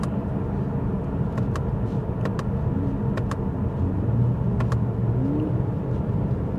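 A car engine runs as a steady low rumble heard from inside the cabin, rising only slightly while held around 2000 to 2500 RPM, with faint ticking clicks over the drone.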